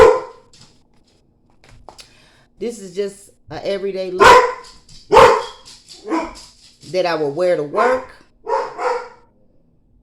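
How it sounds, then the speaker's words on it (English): A pet dog barks a few sharp times indoors while someone talks steadily through her everyday makeup routine, with the barks cutting into and between her speech. "I'm sorry about my dog, y'all."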